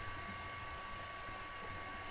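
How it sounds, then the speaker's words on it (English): An alarm clock in the Everlasting Summer video game rings with a steady, continuous high jingle that holds for a couple of seconds, fairly quiet and alone. "I realized that the cause of the jingle is my alarm clock"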